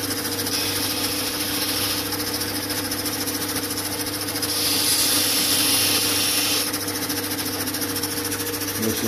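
An opal stone held against a soft polishing wheel gives a steady, continuous whirring grind with a faint rubbing hiss, close and constant with no voices.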